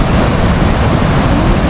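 Rough surf breaking on the shore at Casiguran, Aurora, a steady loud wash of crashing waves with wind buffeting the microphone throughout, no voices.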